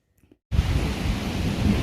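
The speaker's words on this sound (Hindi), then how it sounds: "लिटरली मूसलाधार बारिश हो रही है।" Heavy downpour at night, starting abruptly after near silence and then pouring steadily as a dense, loud, continuous hiss of rain with a low rumbling undertone.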